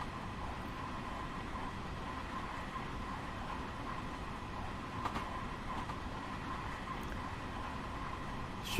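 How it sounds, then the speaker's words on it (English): A Long Island Rail Road train in Train Simulator Classic rumbling through an adjacent tunnel near Hicksville, New York, a steady, broad, moderately loud roar that holds throughout with no talking. "Just heard another train in an adjacent tunnel there."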